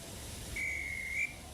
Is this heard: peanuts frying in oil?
no